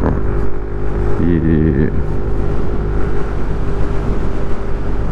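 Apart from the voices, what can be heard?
Suzuki Address 110 scooter riding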